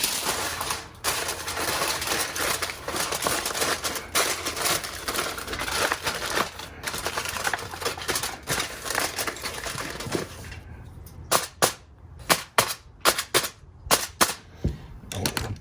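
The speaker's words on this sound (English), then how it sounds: "Get a little foil out here." Aluminum foil is pulled out and crumpled around a spatchcocked preseasoned chicken smoked on a Masterbuilt 1050. A long stretch of dense crinkling rustle gives way to a series of sharp, separate crackling crunches near the end, close and loud with no voices.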